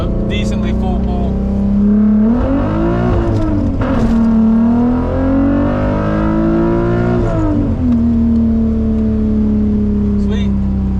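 A VW MK2 with a swapped 12-valve VR6 on Techtonics 288 camshafts pulls hard under full throttle, engine note climbing loud and steady through two rising sweeps with a brief dip between, heard from inside the car.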